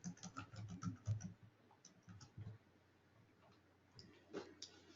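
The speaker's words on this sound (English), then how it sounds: "I'm going to go ahead and type in microcephaly." Soft clicking of a computer keyboard as a search word is typed, a short burst of quick keystrokes followed by a few sparse taps, close and faint.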